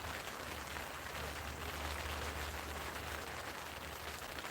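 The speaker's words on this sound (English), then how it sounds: "can you hear the rain?" Rain falling on a Quechua Arpenaz 4.2 tent, a faint, even hiss of drops on fabric that runs steadily with no talk.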